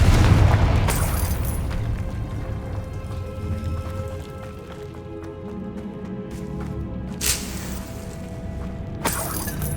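Blasting-spell explosions from the Hogwarts Legacy video game: a few sharp, loud bursts with crackling, debris-like tails, spaced several seconds apart over a dense, rumbling game soundscape.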